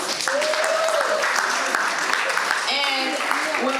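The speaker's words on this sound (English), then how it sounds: "Applause to her, please." An audience at an annual convention in Houston, Texas claps continuously, the applause running beneath a voice speaking over it.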